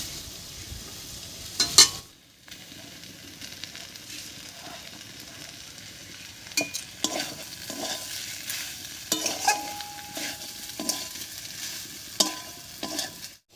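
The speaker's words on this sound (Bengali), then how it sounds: "আলুটা দিয়েও সব কিছুর সঙ্গে খুব ভালো করে মিশিয়ে নিয়েছি" Boiled potato being stirred into spiced chicken in a pan for homemade chicken cutlets, with soft frying sizzle and irregular spoon scrapes and knocks.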